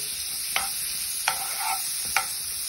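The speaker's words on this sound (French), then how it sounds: "dans une poêle bien chaud le beurre pour fondre" Butter melts in a very hot frying pan with a soft steady sizzle, punctuated by three sharp clicks of a utensil against the pan, close and with no talking.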